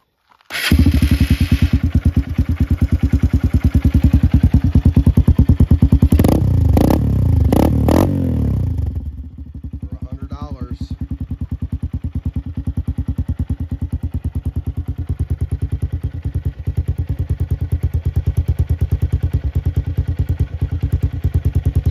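A Honda XR150L motorcycle with a full aftermarket exhaust system starts up close by, revs with a clattery bark for several seconds, then settles into a deep, steady, rumbling idle.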